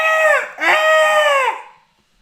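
A human voice imitates a crow cawing, giving two loud, drawn-out nasal caws in a row, the second longer and trailing off into silence.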